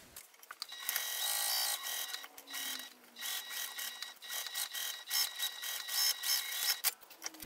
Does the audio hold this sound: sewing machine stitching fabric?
yes